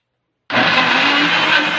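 A kitchen blender blending bananas for healthy banana oat pancakes switches on abruptly after a brief silence and runs at a steady, loud whir close by, with no talk over it.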